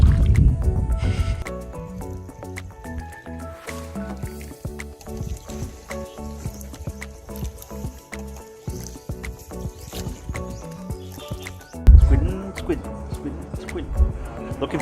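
A paddle works through the water on a boat trip in a bay in Vietnam, giving soft, irregular splashes and drips close by, with people talking throughout.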